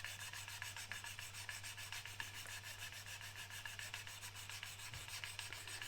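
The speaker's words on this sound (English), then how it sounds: "I'm just kind of spinning that round as I'm sharpening it to a point" A pastel pencil being sharpened to a point, turned steadily against an abrasive surface, producing a faint, continuous close rasping rub with a soft repeating rhythm over a low steady hum.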